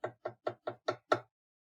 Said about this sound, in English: very light at first knock